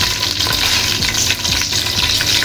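Onions and curry leaves sautéing in a pan for mutton dhalicha, a loud close crackling sizzle with stirring movements running without break.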